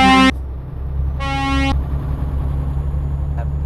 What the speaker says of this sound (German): Der kann hupen.